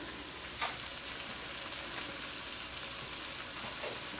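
Sliced dried chorizo renders its fat in hot oil in a pan, giving a steady, close, crackling sizzle with a few sharper pops, and no one talks over it.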